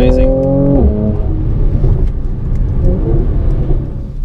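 A 2019 Mercedes-AMG C43 engine (390 hp) revs up in a rising whine, shifts, then keeps pulling with a loud, close roar.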